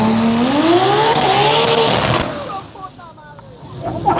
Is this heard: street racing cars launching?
yes